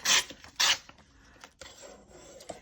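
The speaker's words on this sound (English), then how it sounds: "I'm just going to tear this part off" Paper is torn off along a ruler to recycle envelopes and magazines, with two quick loud rips near the start followed by softer rustles and scrapes, close and without talking.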